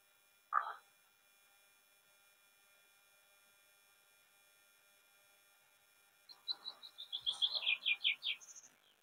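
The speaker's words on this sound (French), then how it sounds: "Les petits oiseaux chantent." Small birds sing outdoors on a sunny day, with one short chirp early on and then a quick run of bright, repeated tweets rising near the end, fairly close and clear against an otherwise quiet background.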